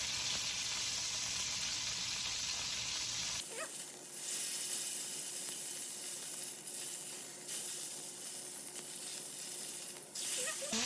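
Meat searing in a hot pan on a home kitchen stove, a dense steady sizzle that jumps louder a few seconds in and stays close and continuous with no talking.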